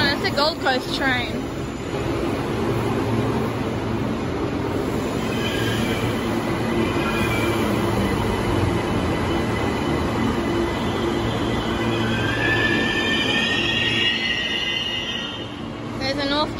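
A Gold Coast passenger train rolls steadily past at close range at Central Station, a continuous heavy rumble with high wheel squeals and a brief horn-like tone near the start and end.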